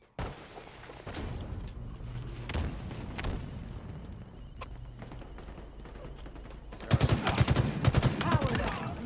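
Gunfire in Halo Infinite crackles in scattered bursts and single shots over a steady background, then turns into a dense, louder volley near the end, with faint voices mixed in.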